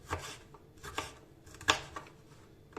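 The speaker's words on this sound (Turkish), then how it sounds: "bunlar da böyle doğrayarak doğrayacağım şöyle" Several separate knife chops on a board, irregularly spaced and fairly quiet, with one sharper strike in the middle.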